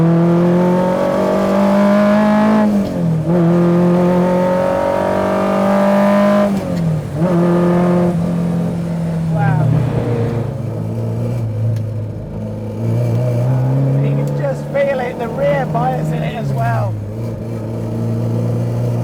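A 1966 Alfa Romeo GTA Corsa engine burbles and pulls hard in third gear out of a corner, its rising tone loud and close under someone talking throughout.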